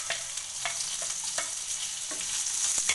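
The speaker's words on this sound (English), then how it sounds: "I have chopped the onions into slices and now I'm going to add it" Sliced onions frying and spluttering in a pan over a low flame give a continuous sizzle, with crisp pops and small crackles scattered through it and no speech.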